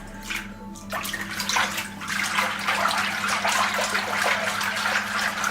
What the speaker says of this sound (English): I'm going to put that in a dish with tepid water.